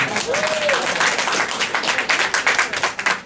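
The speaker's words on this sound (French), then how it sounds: "si vous voulez applaudir, c'est le moment où vous pouvez faire tous ensemble." Audience in a lecture hall applauding together, a steady wash of many hands clapping that grows more rhythmic and distinct toward the end, with a brief voice near the start.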